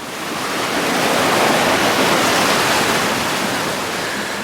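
Clear jungle streams run along the Inca Trail near handmade wooden bridges, a steady broadband rush of flowing water, close and continuous throughout with no voices.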